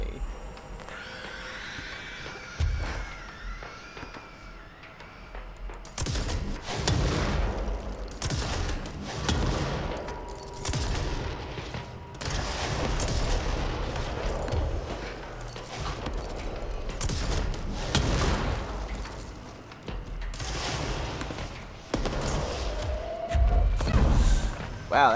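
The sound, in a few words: gunfire shooting mold enemies in video game Control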